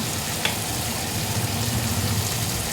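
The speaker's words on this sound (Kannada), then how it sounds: "ಫ್ರೈ ಮಾಡ್ಕೊಳ್ಳೋಣ" Spices frying in a pan with tomato for palak shahi paneer, a steady close hiss of sizzling oil with a faint low hum underneath and one brief clink early on, no talking.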